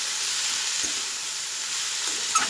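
Shredded cabbage sizzles steadily in hot oil in a pan, with a couple of soft stirring scrapes standing out against the continuous frying hiss.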